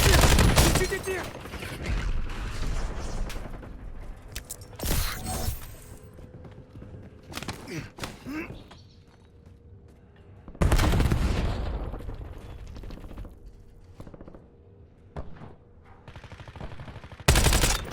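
Bursts of gunfire in the battle royale game Warzone, sharp loud volleys at the start and again around mid-clip, with quieter sporadic shots and game sounds between.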